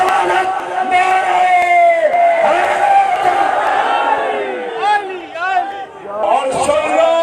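A large crowd chants the Naara-e-Haidari slogan in loud, full-throated unison, with rising shouted voices and overlapping calls that carry throughout at a gathering addressed by a Peer.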